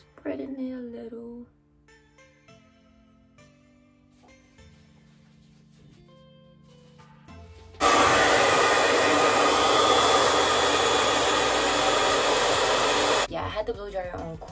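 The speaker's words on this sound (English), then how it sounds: "I had the blow dryer on cool, so yeah, not hot." A hair dryer on its cool setting roars steadily for several seconds, loud and close, after a stretch of quiet movement and brief talk before it.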